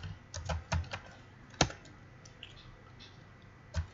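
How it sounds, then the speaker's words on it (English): Computer keyboard keys pressed for a cut shortcut: a handful of sharp, close clicks in an irregular rhythm with one louder tap in the middle, on a quiet background. "Then we had Control X, and that's to cut something out of a document."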